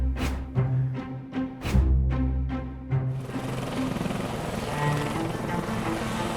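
An air ambulance helicopter passing over a house along the A9 corridor in Scotland, its rotor thumping in a steady rhythm before giving way to a continuous broad engine roar as it goes by.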